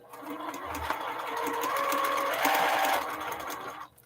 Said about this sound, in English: And proceed to sew it back in place. Lock in my stitch.